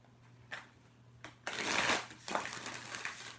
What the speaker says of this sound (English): Ooh, look at that shuffle. That was a nice shuffle.